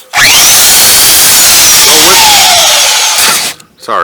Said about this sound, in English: I'm going to use my Makita, and it's got an 80 grit. And I'm going to go back and forth over this.